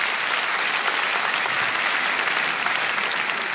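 Dense, steady audience applause fills a comedy gala hall in Montreux, loud and continuous throughout with no voices on top.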